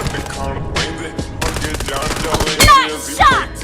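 Rapid bursts of M416 rifle fire in the BGMI battle game, with dense automatic volleys and sharp single reports close and loud, ending in a couple of louder ringing impacts.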